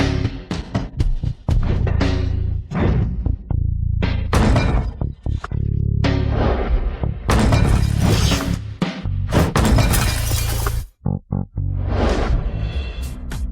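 Glass and furnishings smashed during the wrecking of a birthday banquet venue: loud repeated crashes, shattering and thuds tumble over each other almost continuously, broken by one brief pause.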